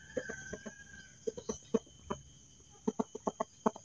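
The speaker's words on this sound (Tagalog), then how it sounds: "meron silang mga alaga ng mga manok" Chickens cluck in short bursts of sharp, pulsing notes, with a brief pause between groups, fairly close over a quiet background.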